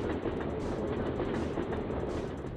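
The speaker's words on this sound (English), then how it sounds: "Oh, there's the train." A subway train rushes past in the PS1 video game Syphon Filter, a continuous rumbling roar with rhythmic clickety-clack of wheels on rails at moderate level.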